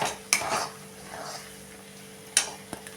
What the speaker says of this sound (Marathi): आणि आता एकसारखं हलवत राहायचं आहे